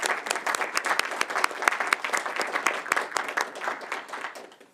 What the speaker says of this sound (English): we need to applaud you as well